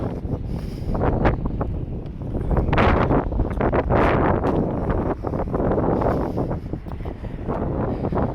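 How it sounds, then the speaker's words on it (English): Strong west wind gusting outdoors on a downtown street, buffeting the microphone with a constant roaring rush that swells and eases in waves, close and loud throughout. "the wind is right out of the west today"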